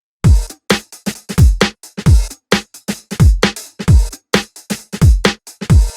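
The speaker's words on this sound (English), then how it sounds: "If we have no filtering, the drums sound like this." A loud, unfiltered garage drum-and-bass style break plays alone, with a Y2K-style kick and crisp snares and hats in fast, syncopated bursts and short gaps between hits.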